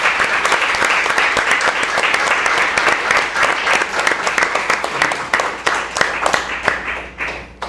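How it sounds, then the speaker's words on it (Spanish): A studio audience applauds loudly and steadily for the whole stretch, with dense overlapping claps that thin out slightly toward the end. "Así que un fuerte aplauso para ustedes."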